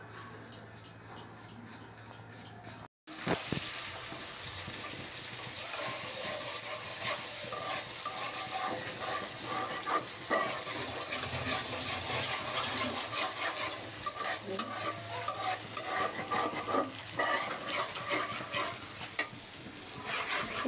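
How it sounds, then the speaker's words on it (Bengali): Chopped cabbage frying in a pan, a continuous close sizzle with scraping stirs and clatter running throughout, after a brief quieter opening and a sharp cut. "এই যে বাঁধাকপি ভাজি করতেছি"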